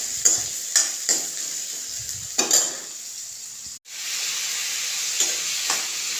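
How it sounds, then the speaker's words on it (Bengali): Ginger, garlic, green chilli, onion and vegetables frying in a pan: a constant close sizzle broken by repeated scraping stirs, with one brief dip before the hiss resumes. "সবজিগুলো ভাজা শুরু হয়ে গেছে।"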